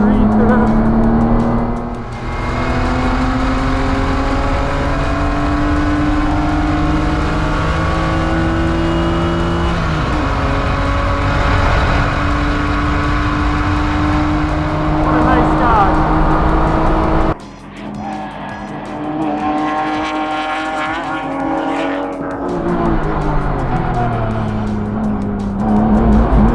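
A 1990s BMW E36 M3 or Mazda Miata race car drives hard on a track. Its engine drones loud and steady and rises and falls through the gears, and a voice talks over it.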